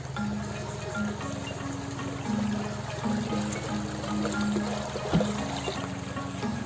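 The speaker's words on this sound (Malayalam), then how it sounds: "അവിടെ നിന്നുള്ള ആ വെള്ളത്തിൻ്റെ ഒഴിവാണ് ഇവിടെ കാണുന്നത്." Water spills steadily from a stream below Seetharkundu waterfall in the Nelliyampathy foothills near Kollengode, Kerala, a continuous close rush with a low tonal hum running underneath and no voices.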